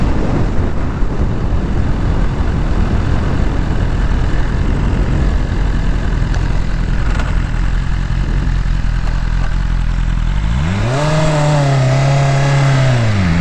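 A BMW S1000RR sport motorcycle engine roars at steady high revs, then drops and climbs again in quick rising pitch sweeps as it shifts up, loud and close under wind noise.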